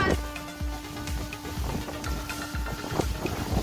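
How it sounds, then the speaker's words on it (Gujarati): Strong cyclone wind sweeps through a village near Dwarka, Gujarat, roaring steadily and buffeting the microphone in repeated low, heavy gusts, with a faint steady hum beneath and no speech. "પવન બહુ બધો છે."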